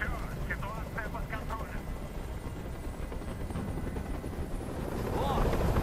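Helicopter hovering overhead in the video game Detroit: Become Human, a continuous low rotor drone filling the scene beneath chirpy game sounds, swelling slightly louder toward the end.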